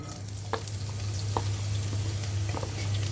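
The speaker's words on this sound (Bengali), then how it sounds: "সেখানে আমি দিয়ে দিব কিছুটা পরিমাণ পেঁয়াজ কুচি এবং মরিচ কুচি" Chopped onion and green chili frying in oil left over from frying eggs, a soft continuous sizzle under a low steady hum, with a few light taps from stirring.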